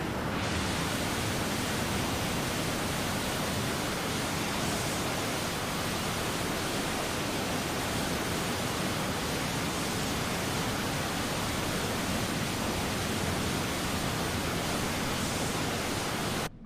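F-22 Raptor jet engine in Microsoft Flight Simulator, a steady dense roar like rushing noise that holds unbroken and loud throughout, with no voices.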